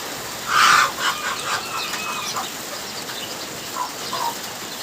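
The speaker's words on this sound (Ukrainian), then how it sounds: "Ось отакого півника і курочку" A rooster or hen lets out a loud squawk, followed by softer scattered clucks from the young chickens nearby.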